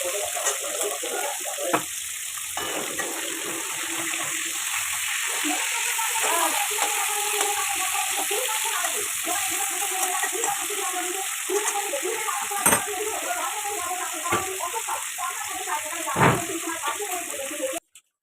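Food sizzles and crackles in hot oil in a pan in a continuous, close hiss, broken by a few sharp clinks and stirring knocks before it cuts off.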